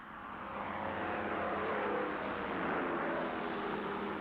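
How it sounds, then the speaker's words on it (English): World War II military aircraft scrambling to take off at Midway island: a loud, continuous, broad engine roar that swells in over the first second and then holds steady. "all the island's remaining aircraft were scrambled"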